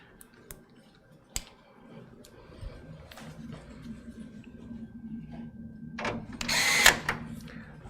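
A power screwdriver drives motherboard mounting screws into a computer case, with a few sharp clicks early on, then a low motor whir that builds to a louder buzzing run near the end.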